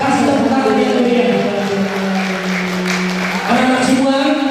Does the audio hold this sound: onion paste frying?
no